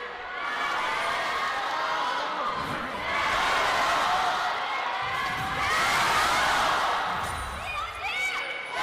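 An esports arena crowd at a League of Legends LPL match cheers and roars in swelling waves, loud and sustained, with a caster talking over the noise.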